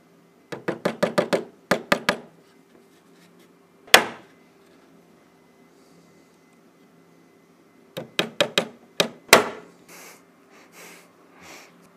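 Nails being hammered into the handle of a 365-litre wood and metal compost bin: two quick bursts of sharp, close, ringing knocks, several blows each, separated by a single hit and a stretch of quiet.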